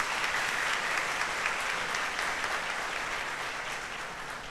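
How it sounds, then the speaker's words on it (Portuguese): A church congregation at a Holy Thursday evening Mass claps for the priests, a dense, sustained round of applause that holds steady and eases slightly toward the end. "Uma salva de palmas para os sacerdotes"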